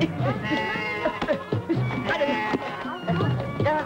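A goat bleating in a rural garden scene from a 1989 Indonesian film, with repeated wavering cries mixed with people talking and shouting over them.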